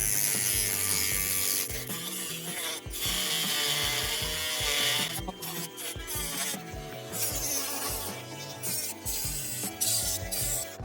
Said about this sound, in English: It's time for the mini angle grinder.